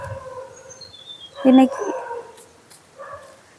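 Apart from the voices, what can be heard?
dog barking and howling near the house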